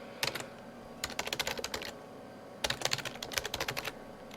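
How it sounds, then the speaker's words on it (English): Rapid clicking of a computer keyboard while a file name is entered over SSH, two close bursts of quick keystrokes separated by a short pause, with no voices. "just type in the file as you see it."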